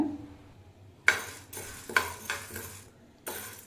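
Chana dal being dry-roasted in a pan over a low flame, with a few distinct scraping and stirring strokes and clinks separated by quieter gaps, close and fairly soft.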